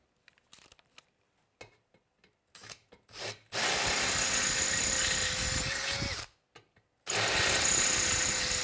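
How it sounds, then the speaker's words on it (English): A power drill fitted with a 5/16 bit enlarges a hole in wood. A few short taps and bursts come first, then two long, loud, close-up runs of grinding drilling separated by a brief pause. "We're going to switch to the 5/16 drill bit first."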